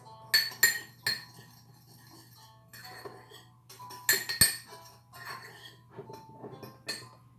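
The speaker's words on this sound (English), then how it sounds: "you're going to take your spoon, you're going to mix in all of your dried ingredients" A spoon stirs dried ingredients in a glass bowl, giving a run of bright clinks and scrapes in uneven bursts, close and fairly quiet.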